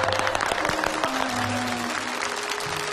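Studio audience clapping through a Chinese family sitcom skit, a steady wash of applause with a few louder claps, while indistinct voices talk and call out faintly underneath.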